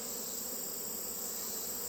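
Honey bees buzzing at an open hive during a frame inspection for mites, a continuous dense drone of many bees close at hand, steady and unbroken, with no voices.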